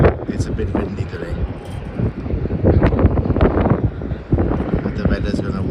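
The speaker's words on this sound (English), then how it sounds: "It's a bit windy today," Wind buffets the microphone in rough, rumbling gusts at Melbourne Airport, rising and falling continuously, loud and close.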